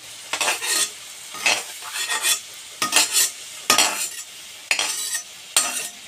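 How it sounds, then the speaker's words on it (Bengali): Large prawns sizzle in a pan while a utensil scrapes and stirs in repeated strokes, roughly one every second. "আমি এখন চিংড়ি মাছগুলোকে এই যে লাল লাল করে ভেজে নিয়েছি অল্প"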